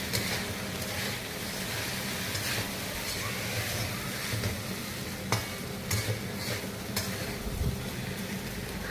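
Rice being stirred into vegetables in a frying pan, a steady sizzle with scraping stir strokes and a few sharp clinks of the utensil against the pan, close up with no talking.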